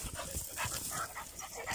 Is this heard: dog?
yes